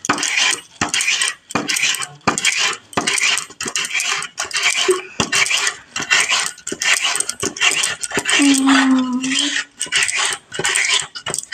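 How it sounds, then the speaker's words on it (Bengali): A coconut grated by hand, a rhythmic series of loud, close scraping strokes separated by brief pauses, each rasp sharp and gritty, with a short tonal squeak near the end and no speech. "ফার্স্টে তোমাদের নারকেলটা আমি কুড়িয়ে দেখাচ্ছি"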